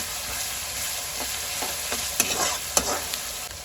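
Garlic and green chili paste fries in a pan while a spoon stirs it. A soft, even sizzle runs under a few sharper scrapes, heard up close with no voices.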